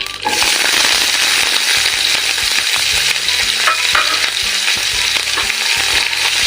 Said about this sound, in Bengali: এইবার এই ফোড়নটা একটু ভাজা হয়ে গেলে দিয়ে দেবো কুচিয়ে রাখা পেঁয়াজ